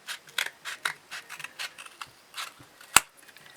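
Scissors cutting cardboard toilet roll tubes, a string of short crisp snips close by in an irregular rhythm, with one sharper click near the end.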